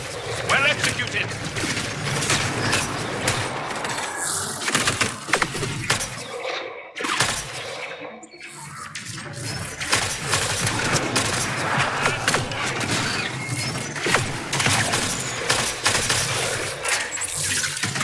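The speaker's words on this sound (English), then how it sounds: "Somebody's shooting the hell out of me." Gunfire in the Mass Effect Andromeda combat, a dense, continuous barrage of loud shots and impacts with a brief lull partway through, and a voice talking over the fighting.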